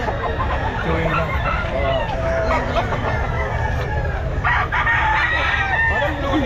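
Roosters crow and chickens cluck at the Grotto pet market amid rain and crowd noise, several calls rising over a constant dense background with a little talk mixed in.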